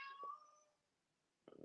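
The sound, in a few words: cat meowing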